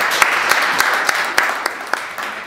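Brief applause from an audience at a festival panel, a steady patter of many hands with a few sharper individual claps standing out, fairly close and without speech.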